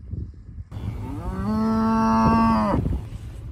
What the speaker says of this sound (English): Thank you for saying moo.